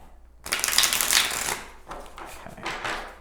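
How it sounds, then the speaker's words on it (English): Tarot cards shuffled by hand give a crisp riffling burst lasting about a second, then two shorter ruffling shuffles, close and alone with no talking. "I'll do one more shuffle here."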